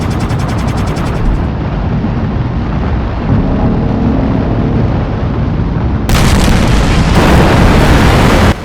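A starship, the USS Firebrand, explodes in a sci-fi drama: a loud, sustained roaring blast with dense rumbling debris, swelling again into a second bright burst near the end, with no voices.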